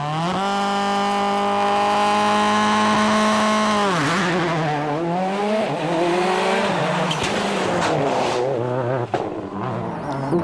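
A Richard Burns rally car roars through the opening stage of the 2003 Rallye Sanremo, its engine a loud, near, sustained drone that dips and climbs through gear changes and throttle lifts.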